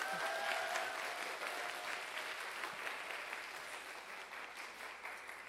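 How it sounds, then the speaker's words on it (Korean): An audience in a museum hall applauds a travel writer after her talk, a steady wash of many hands clapping that carries on evenly and slowly tapers, faint and fairly distant. "정수경 여행 작가님께도 격려의 박수 부탁드립니다."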